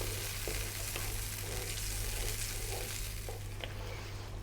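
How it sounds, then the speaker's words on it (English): Broccoli frying over medium heat gives a faint, steady sizzle, with a few soft stirring knocks against the pan and no voices. "Another 4 to 5 minutes on this medium heat. Give it a stir every now and then."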